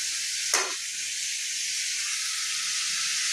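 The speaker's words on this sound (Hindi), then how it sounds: "सब्जी भी मैंने छौंक दिया" Vegetables hit hot reused frying oil for tempering in a home kitchen, giving a sharp burst and then a steady, loud sizzling hiss that carries on alone without talk.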